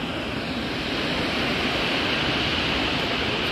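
A mountain stream beside the fortress road on Geumjeongsan in Busan gives a steady, close rushing of flowing water that fills the short stretch, with no talk.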